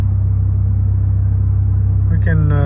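A 1995 Ford F150 truck engine idles steadily while warming up, a loud, even low rumble running throughout, with a brief higher whine or voice-like tone near the end.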